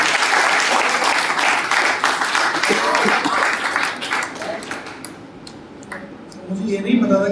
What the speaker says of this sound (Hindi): वही एक बार जोरदार तालियां।